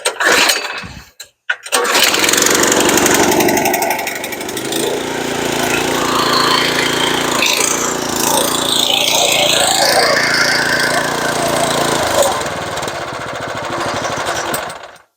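Craftsman garden tiller with a replacement carburetor starting and then running at full throttle, a loud, close, steady engine roar that holds for over twelve seconds after a brief start-up sputter.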